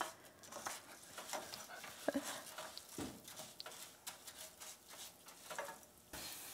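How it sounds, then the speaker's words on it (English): Rice stirred and toasted in a pan over medium heat: soft, faint scraping and light crackling with irregular spoon strokes throughout. "Medium heat, and just stir it until it gets kind of a nice golden brown?"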